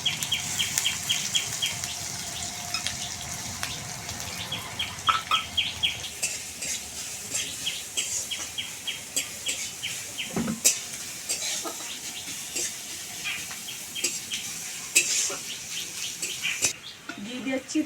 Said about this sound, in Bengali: পেঁয়াজ দুটো ভেজে নেব।